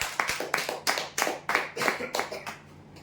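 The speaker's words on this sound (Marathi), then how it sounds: "जोरदार टाळ्या होत्या साठी" Scattered applause greets a prize winner at a weekly customer lucky draw: a handful of people clap in loose, uneven bursts, nearby and moderately loud, tapering off at the end.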